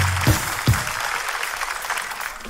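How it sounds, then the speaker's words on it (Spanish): A live comedy show audience in Peru applauds for a magician, a steady wash of clapping at moderate volume with two low thumps near the start. "Un fuerte aplauso para el mejor mago del Perú."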